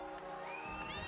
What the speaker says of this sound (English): the crowd egging on these fighters